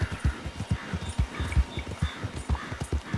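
Video game horse hooves in Red Dead Online clop in a quick, steady rhythm, close and fairly loud, like a horse trotting on hard ground.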